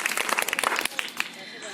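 Brief scattered handclaps from an audience at a school quiz programme, a quick patter of claps that thins out after about a second.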